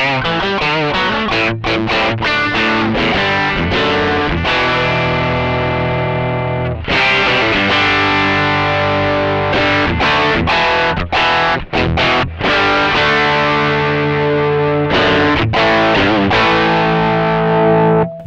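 Electric guitar played through a Mosky Classic F-der distortion pedal, loud, thick overdriven chords and riffs with sustained notes, brief stops and restarts, no talking.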